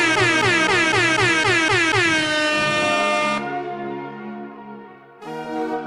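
A loud, blaring air horn sound effect played on a podcast sounds in rapid repeated pulses, then holds a long sustained blast before cutting off and returning briefly.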